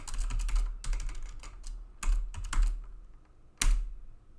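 Typing on a computer keyboard while entering a calculus function, bursts of quick close key clicks separated by brief pauses, with a sharp isolated keystroke near the end.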